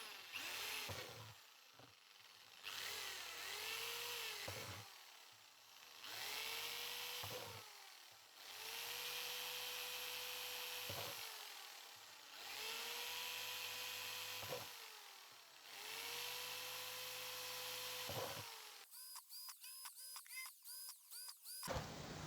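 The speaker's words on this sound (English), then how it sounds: "But we need to drill lots of holes first." A power drill bores repeated holes in a plant container used for growing a fruit tree, each whining burst lasting a few seconds with short pauses between, followed by a quick rattling flurry of drilling at the end.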